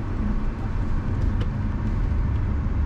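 A BYD Han EV electric car weaves around cones on a test drive, heard as a steady, dense cabin rumble of tyres and road noise without a break.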